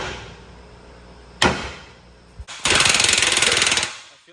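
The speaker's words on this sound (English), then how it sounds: "Just grab your air hammer." Air hammer pounding parts loose on a 6.7L Powerstroke engine: a sharp single hit, a brief knock, then a loud sustained burst of rapid pneumatic hammering about two seconds long, close by in a workshop.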